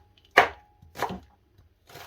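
Three heavy knife chops through red cabbage on a board, spaced about half a second apart, close and loud with silence between strikes.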